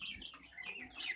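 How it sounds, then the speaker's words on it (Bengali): Brahma chickens on a poultry farm where chicks are sold, with soft clucks and chirps continuing through the moment. Quiet and fairly close, with no talk over them. "এই যে মুরগি।"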